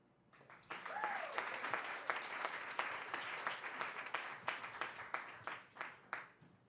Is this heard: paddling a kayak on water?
no